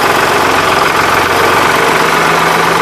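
The diesel engine of a 1983 Ford 3910 tractor runs steadily in low first gear, a loud, close, rumbling chug with a constant knocking throb and no pauses.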